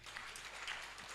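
An audience claps at a national human resource survey report event, a dense, steady wash of many hands heard from a distance, fairly faint and even throughout the short stretch.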